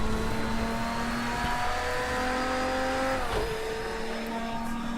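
A Lamborghini Diablo GTO lapping Zolder in snow, its engine revving high and loud from the cabin, pitch climbing through gears with a sharp shift dip midway, steady throughout.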